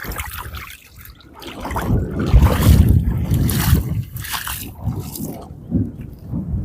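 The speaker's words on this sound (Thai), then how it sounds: "ลมมันแรงนะท่าน" Strong wind gusts buffet a microphone outdoors beside water where shrimp nets are set, producing irregular low rumbling blasts that rise and fall, with faint water sounds and no clear speech.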